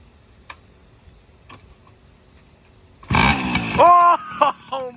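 A 1996 Tomos Sprint moped is kick-started, and after faint ticking the small engine fires abruptly and settles into a loud, close, buzzing idle.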